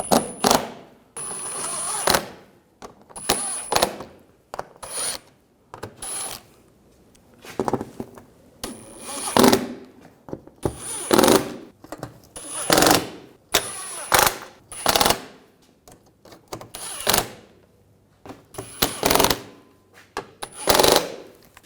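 Power tool, likely an impact gun, snugging down the control arm bolts on a 2007-2013 BMW 328i, repeated loud rattling bursts of a second or two each, separated by short gaps, close by.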